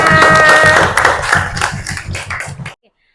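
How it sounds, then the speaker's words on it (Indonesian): Classroom students clapping together, a burst of many hands whose loose claps settle into a rhythmic beat with voices audible early on, then cutting off sharply into silence. "Oke, tepuk tangan semuanya."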